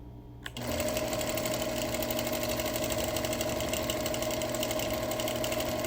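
A sewing machine doing freehand quilting on a beach panel starts up after a brief quiet moment, then runs continuously with a fast, steady, close mechanical needle rhythm and motor whir.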